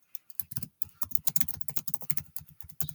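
A chatbot reply message being typed on a computer keyboard: rapid, steady, close keystrokes in a dense, uneven rhythm with a short pause near the start. No voices.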